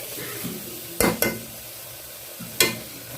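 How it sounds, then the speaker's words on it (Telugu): Pigeon pea masala curry being stirred as it fries in oil, a soft background sizzle broken by a few sharp scrapes and clinks of a spoon against the pan. "కాసేపు నూనె అంతా పైకి తేలేంత వరకు కలుపుదాం."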